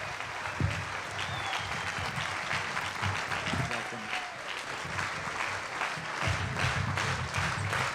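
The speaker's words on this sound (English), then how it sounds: "Let's give him a round of applause." Applause and cheering from a crowd at a Delano grape strike anniversary rally, moderately distant and steady, with voices and shouting mixed into the clapping.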